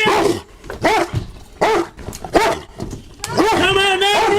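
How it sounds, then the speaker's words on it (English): Police dog barking repeatedly and loudly during an arrest, its sharp barks mixed in with shouting voices. "We're gonna send the dog in."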